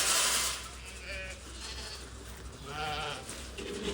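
Sheep bleat in a pen, with a few faint, separate wavering calls rising over quiet outdoor background noise.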